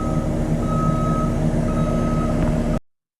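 A fork truck backing up on a broadcast tower construction site, its steady reversing alarm beeping over a continuous loud engine and machinery rumble.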